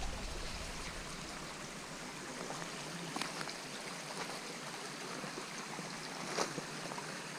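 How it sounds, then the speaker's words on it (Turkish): Cold mountain stream water rushing and burbling continuously in an outdoor valley setting, a steady broad wash with a few brief splashes, no voices. "Ama yine de muhtemelen dağdan geliyor su."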